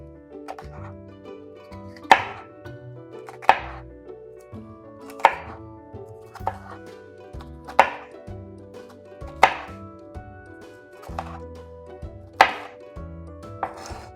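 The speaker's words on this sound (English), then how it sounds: "we are going to cut them one more time into small diced pieces" A knife dices pepper strips on a cutting board in slow, evenly spaced chops, about nine sharp thuds, each ringing briefly against the quiet of a kitchen.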